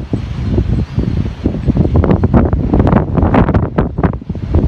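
Strong wind roars and buffets the microphone in continuous heavy gusts during a DJI Neo drone flight, loud and close, with no voices.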